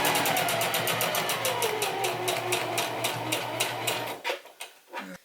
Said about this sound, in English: I'm going to lift up the presser foot and bring the tab up so I can sew the remainder of the way.